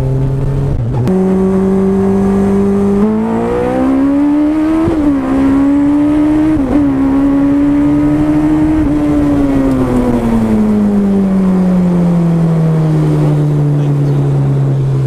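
A newly built Suzuki Hayabusa motorcycle tuned to 11,000 RPM launches hard, its engine roaring loud and close as it climbs through the revs in long rising pulls and then holds a sustained high drone.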